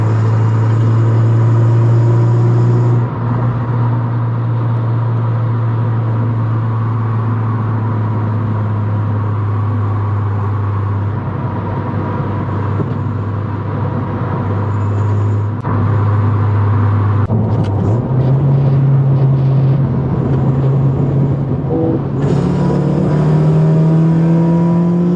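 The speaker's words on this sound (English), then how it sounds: "here's a G37. Let's see if it wants to race." A car engine drones loud and steady during a street run alongside an Infiniti G37, the pitch holding then climbing in stepped shifts as it accelerates, heard from inside the car with no talk.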